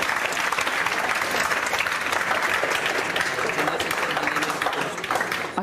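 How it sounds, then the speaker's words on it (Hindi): Sustained, dense applause from an audience at a ceremony congratulating a woman selected for an electricity board job, loud and steady throughout before tapering slightly at the end. "इनके लिए जोरदार तालियां बजाओ।"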